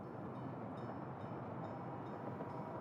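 A train arrives in the Workers & Resources construction video game, a steady low rumble of rolling wagons with faint rhythmic clicks, quiet and continuous with no talk.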